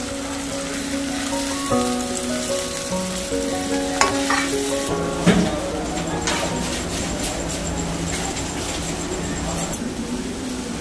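Sliced onion and bay leaf sizzling in hot oil in a pan while cooking a chicken dish, a steady close frying hiss with occasional scrapes and clinks of stirring.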